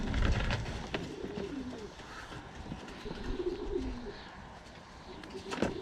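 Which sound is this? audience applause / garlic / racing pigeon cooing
racing pigeon cooing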